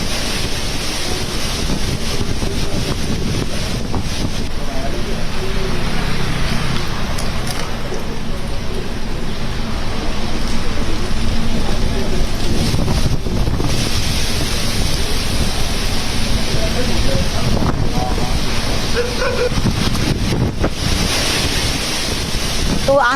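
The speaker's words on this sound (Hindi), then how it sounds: "तो आंधी तूफान आप देखिए कैसे आंधी आ गई" Roaring gusts of a dust storm sweeping across Delhi-NCR, a loud, unbroken rush of wind buffeting the microphone for over twenty seconds with surging swells.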